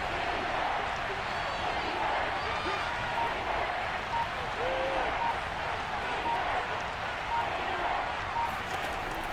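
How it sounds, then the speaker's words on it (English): A virtual stadium crowd in Madden NFL 22 roars steadily around a big third down, with a dense, continuous wash of cheering under a commentator's voice. "the crowd getting into it as we come up on a big 3rd down"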